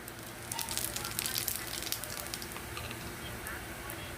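Cumin and radhuni seeds fry in leftover fish-frying oil, a soft crackling sizzle with scattered sharp pops and spits, faint and close, continuing steadily with no speech over it.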